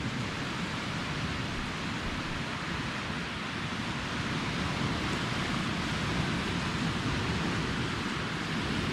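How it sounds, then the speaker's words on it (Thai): Continuous wash of ocean surf rolling onto shore at Thap Sakae, Thailand, in the evening, a steady broad hiss without pauses, fairly loud and unbroken. "มีแต่เสียงคลื่น"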